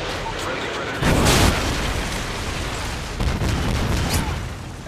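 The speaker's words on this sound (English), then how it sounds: "Friendly Predator missile" A Predator missile strike in Call of Duty: Modern Warfare 3 sets off two loud, booming explosion bursts a couple of seconds apart over constant battle noise.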